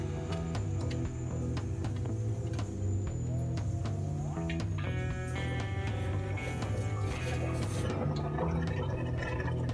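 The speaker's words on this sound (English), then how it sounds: "now draining the water out of the tank" Water gurgles and trickles as it drains out of a toilet tank, a continuous close watery flow with rising tonal bubbling and scattered drips.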